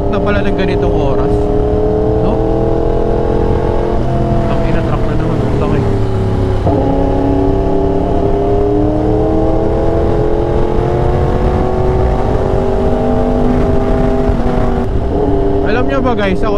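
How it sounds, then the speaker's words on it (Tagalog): Engine drone rises and falls on a road at night as vehicles go by, a loud, steady rumble with shifting pitch, heard from inside a moving vehicle while a voice talks over it. "Puro truck na pala ng ganitong oras"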